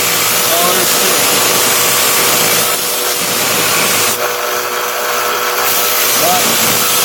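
A Romanian AK47 bayonet is sharpened on a power grinder. A loud, continuous whirring grind runs throughout, close up, with someone talking over it.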